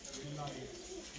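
Racing pigeons in Sialkot, just back from flight, give soft, low cooing. The calls sit faint beneath someone talking nearby.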